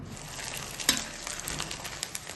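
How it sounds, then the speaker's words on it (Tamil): Rice flour vadam (koozh vathal) deep-frying in hot oil, giving a quiet, steady sizzle dotted with occasional sharp pops and crackles. "இப்போ நம்ம இந்த வடகத்தை பொரிச்சு எடுத்துருவோம்."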